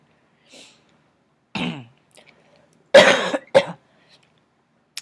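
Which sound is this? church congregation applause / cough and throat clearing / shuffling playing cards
cough and throat clearing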